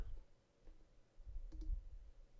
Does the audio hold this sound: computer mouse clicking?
yes